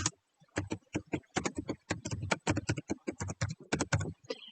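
Fingers type a quiz question on a computer keyboard in rapid close bursts of crisp key clicks, irregular clusters separated by short pauses, with no talking.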